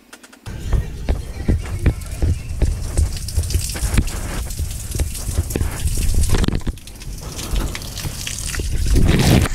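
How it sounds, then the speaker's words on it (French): Water from an outdoor shower in the jungle pours and splashes steadily, loud and close, with dense dripping and spattering that swells toward the end. "Une petite douche dans la jungle, moi je vous dis."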